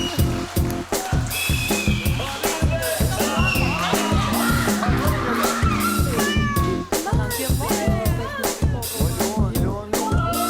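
A cat meows repeatedly on a farm, its calls rising over a steady rhythmic beat of music with voices talking and singing throughout.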